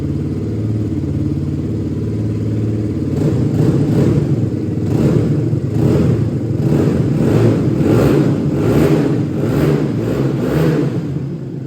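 A 2021 Aprilia RX 125 motorcycle engine idles with a steady throb, then from about three seconds it is revved repeatedly, with rhythmic, loud, close blips rising and falling over a lumpy exhaust note.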